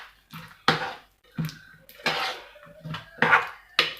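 A spoon scraping and clinking in a pan while caramel is stirred together with butter and cocoa, in irregular strokes of metallic scraping with short pauses between them.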